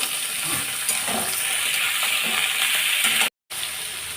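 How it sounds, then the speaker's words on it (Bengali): Carrots and potatoes frying in oil in a pan for a mixed vegetable greens dish, a loud continuous close sizzle with soft stirring, broken by a brief cut. "দিয়ে দিচ্ছি কেন্দুরি গাজর আর আলুগুলো এরপর এগুলোকে ভেজে নেবো"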